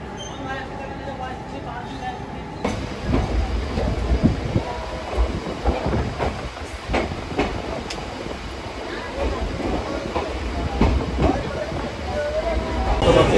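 The Haldibari Superfast Express, running from Kolkata to NJP, rolls into Rampurhat Junction with a steady rumble and clatter of rail cars, a few sharp clanks and a persistent high squeal, under background voices on the platform.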